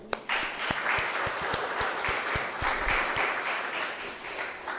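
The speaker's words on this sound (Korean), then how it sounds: "고생한 우리 모두 위해서 박수 한번 칠까요?" A church congregation at a Catholic Mass claps together in a steady, moderately quiet round of applause, with a few distinct sharp claps standing out, starting after a short pause.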